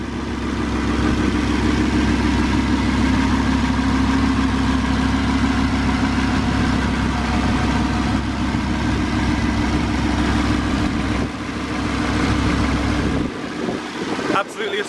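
A 2017 Audi R8 5.2 V10 Plus mid-engine supercar sits idling with a steady, deep, close exhaust rumble that continues unbroken for most of the stretch and is buffeted by some wind noise near the end.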